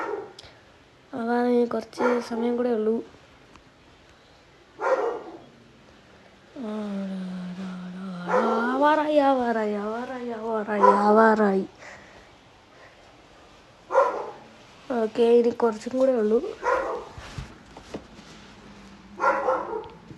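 A pet dog barks and whimpers in repeated bursts, some drawn-out and yelping, close by indoors while a person talks over a computer game.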